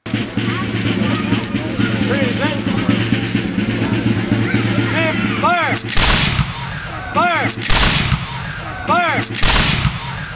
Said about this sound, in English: the British fired a 17 gun salute to Washington and his country's new flag